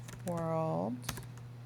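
A few key clicks from typing on a computer keyboard while working in Illustrator, sparse and close, with a short voiced sound over them.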